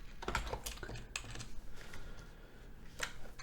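Quiet, irregular clicking of keys on a computer keyboard, with quick bursts of taps separated by short pauses.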